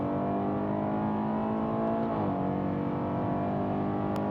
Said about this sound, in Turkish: Bak gazdayım, spordayım. Araba gidiyor.